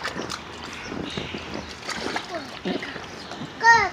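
Water splashes and sloshes in a backyard swimming pool in the sun, with repeated choppy bursts under children's and adults' chatter and a brief louder splash near the end.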